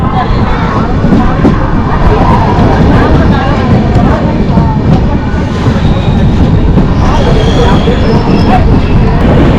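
Trains rumble and clatter continuously at a busy Arakkonam railway junction station, with loud, dense rail noise and a crowd murmuring beneath it.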